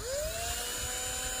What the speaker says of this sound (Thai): เอาสว่านใส่ไปในไขควงอันนี้เป็นแบบออโต